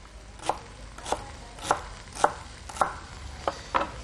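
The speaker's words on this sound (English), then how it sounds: "Roughly chopping up my celery." A knife chops celery rhythmically on a cutting board, seven crisp, evenly spaced chops close up with no talking.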